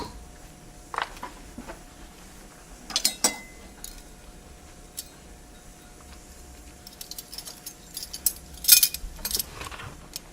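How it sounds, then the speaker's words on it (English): The seal on a new bottle of olive oil is opened with small plasticky clicks, crinkles and tapping, in scattered bursts that are louder near the end against a quiet room. "This is a new bottle I'm going to open today. So let's open its seal."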